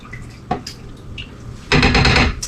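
Meat for a lamb stew plops into a pot with a dull thud, followed by a denser wet churning and scraping as it is stirred around, close and fairly loud.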